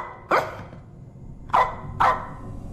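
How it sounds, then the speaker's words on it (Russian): Dog barking in a horror video game, three sharp separate barks at moderate distance with pauses between them, no talking. "Собака там лает."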